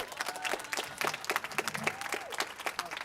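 A crowd claps for the contestants at the Hemet-San Jacinto fast pitch competition, a burst of scattered, lively applause from a modest audience close by, with faint voices mixed in.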